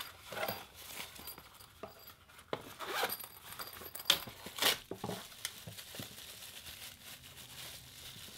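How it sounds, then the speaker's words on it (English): A soft zipper on a mesh microphone carrying bag pulls in short bursts, mixed with crinkling and rustling of fabric, fairly quiet and close. "Nice mesh material. It zips up."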